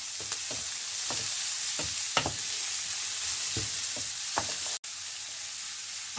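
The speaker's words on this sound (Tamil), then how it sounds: "இப்போ இதை லோ ஃப்ளேம்லேயே வச்சு இதை நல்ல வடிவாக வதக்கி கொள்ளுங்கோ." French beans sauté with chili powder over a low flame in a pan, a soft continuous sizzle with repeated spatula stirs and scrapes, close and fairly even throughout.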